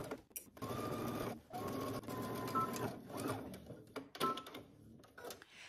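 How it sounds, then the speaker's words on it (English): A sewing machine stitches a shoulder seam at a 5/8 inch seam allowance, running in a few steady whirring bursts with brief stops and a clatter between them, close by and moderately quiet. "we're going to stitch using 5/8 of an inch seam allowance"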